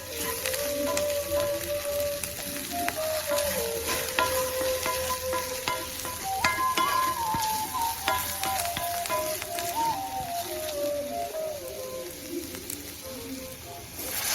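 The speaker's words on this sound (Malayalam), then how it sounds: "അതിൻ്റെ ആ ഒരു പച്ചമണമൊക്കെ മാറുന്നത് വരെ നമുക്കൊന്നും കൂടി ഒന്നങ്ങടെ ഇളക്കി കൊടുക്കാം" Onion and ivy gourd fry with spice powders while being stirred, making a loud, continuous sizzle broken by scraping strokes. A thin whistling tone drifts over it.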